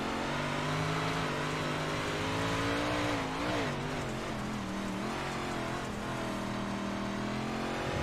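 A big block modified race car engine roars onboard at speed on an oval track, a loud sustained drone with slowly wavering pitch and a brief rise and dip midway, with no talk over it.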